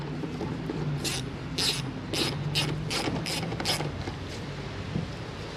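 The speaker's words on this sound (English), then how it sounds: "Then we want to get our 10mm and start to screw." A 10mm ratchet wrench clicks close up in about seven quick bursts while tightening a fuse box on a Chevy Impala or Malibu.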